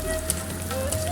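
Onions and potatoes frying in oil with dried red chillies for a vegetable dish, a steady close crackling sizzle running throughout with no talk.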